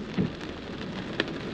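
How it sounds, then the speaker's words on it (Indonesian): Heavy rain pours steadily outdoors in cold weather, a dense continuous wash of drops hitting surfaces, with a couple of brief louder splashes and no voices. "hujan-hujan kayak begini"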